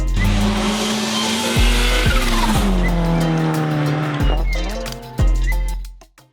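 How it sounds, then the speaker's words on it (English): Modified Unplugged Performance Tesla Model 3 Performance driven hard: loud, close tire squeal over a shifting electric-motor whine, with several sharp changes in pitch, ending abruptly. "let's go for a drive in this Unplugged Performance Tesla Model 3"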